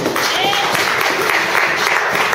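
A church congregation applauds the word of the Lord during a bilingual French and English sermon, a dense, loud, continuous clapping that fills the hall, with voices mixed in.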